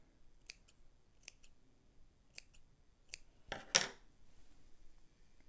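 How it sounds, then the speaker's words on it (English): Scissors make about six crisp snips into the bodice of a sewn Simplicity 9114 dress, small clicks spaced roughly a second apart, ending in a louder cluster of cuts, close and alone with no talking. "I can use my scissors to make small snips into the bodice"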